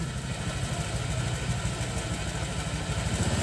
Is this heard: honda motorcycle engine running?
yes